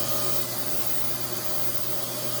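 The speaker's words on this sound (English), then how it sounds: "sanding the red paint down with 180 grit" A continuous, dense rasping noise of sanding red paint with 180-grit sandpaper, steady and close, with no pauses or speech.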